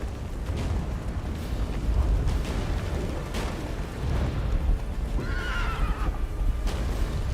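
Roach, the horse in The Witcher 3, galloping under rumbling battle noise and explosions, then letting out a clear neigh partway through, loud and close.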